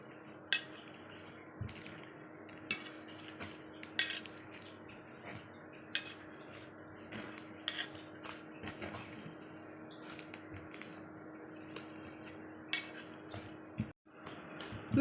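Cooked semolina with milk powder and ghee is stirred in a pan, quiet scraping and irregular metallic clinks of a spoon against the pan repeating over a low steady hum.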